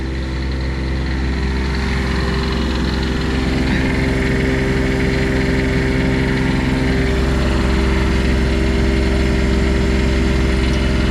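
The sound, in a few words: RV generator running on air spring isolator mounts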